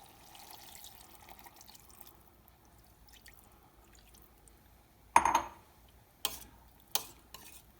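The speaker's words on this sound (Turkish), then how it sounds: "Artık yavaş yavaş suyunu vereceğim arkadaşlar." Water pours into a cooking pot for an Adana-style spinach root dish, a faint trickle followed by a few louder splashing pours, heard up close in a quiet kitchen.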